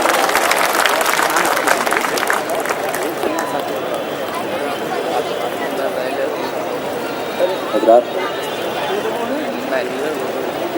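Applause from a mushaira audience greeting a poet, a brief burst of claps up front that gives way to a loud, steady crowd murmur with voices mixed in.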